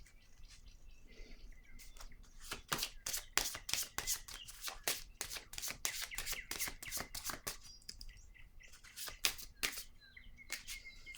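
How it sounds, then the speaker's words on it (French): Tarot cards being drawn and shuffled by hand, heard as a long run of quick, soft riffling clicks and flicks. Close but fairly quiet, with brief pauses between bursts. "Allons-y, je vais piger une autre carte."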